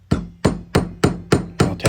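A nail set drives small brass brads into a flatback cast plaque, giving seven sharp metallic taps at an even, quick rhythm, close and clear with no talk.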